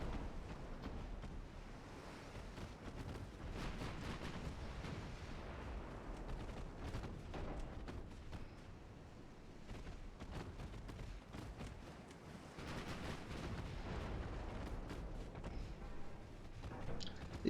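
Warship main battery artillery fire in a naval battle video game, with heavy booms blending into a continuous rumbling wash of sea and wind, dense and sustained but fairly quiet, no speech.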